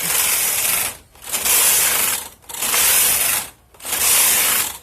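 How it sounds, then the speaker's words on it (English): A Brother 260 knitting machine working rows of tuck stitch, its carriage making loud mechanical ratcheting swishes back and forth in four regular passes with brief gaps between. "And we'll do a few rows of tuck."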